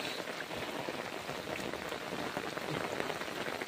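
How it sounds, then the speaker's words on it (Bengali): Heavy rain pours down at night over flooded rice paddies in the countryside, a dense, steady hiss of countless drops that stays loud and unbroken, with no voices. "বৃষ্টি জোরে আসতেছে"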